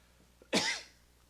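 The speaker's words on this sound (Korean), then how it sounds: "오늘 저녁에 왜 이렇게 기침이 나와요?" A man gives a single sharp cough, close and clear, during a Wednesday church service in a quiet room, a brief burst that fades within half a second.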